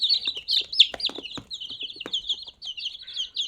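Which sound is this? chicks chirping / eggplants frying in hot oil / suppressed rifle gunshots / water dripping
chicks chirping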